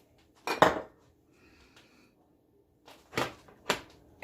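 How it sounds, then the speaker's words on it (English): Spoon scraping and knocking against a bowl while olive oil is stirred into fat-free cheese, a few short clattering bursts separated by quiet pauses, close by with no talking. "I'm just going to mix it into the cheese."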